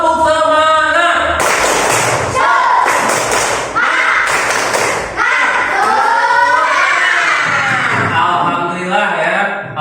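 Classroom of students performing a rhythmic clapping cheer: bursts of loud group claps and thumps in patterned beats, mixed with children chanting and shouting together, lively and close.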